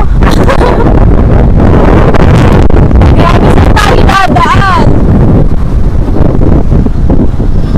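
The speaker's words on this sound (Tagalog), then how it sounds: "tingnan nyo sa lakas ng hangin ng bagyo" Strong, roaring typhoon wind in Nasugbu, Batangas batters the microphone continuously, with gusty rumble throughout; a person speaks briefly over the storm noise.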